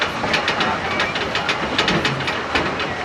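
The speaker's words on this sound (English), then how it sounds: "as the train comes to a stop" A Roaring Camp Railroad train hisses and clatters with rhythmic clicking of wheels, steady and fairly loud, as it slows to a stop.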